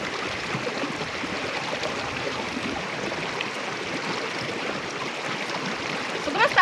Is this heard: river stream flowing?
yes